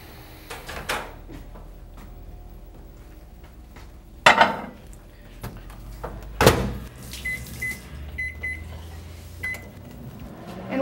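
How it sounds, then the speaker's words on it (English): A kitchen microwave oven being loaded and started: two sharp thuds as the door is handled, then a series of short electronic keypad beeps, with low appliance hum and light clatter underneath and no talking. "you're gonna put it in a microwave for 12 minutes"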